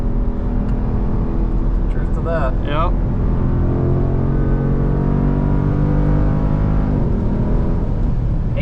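A Dodge Durango engine droning steadily as the SUV runs out of the carousel at Road America, loud and constant under brief talk from the people inside the cabin.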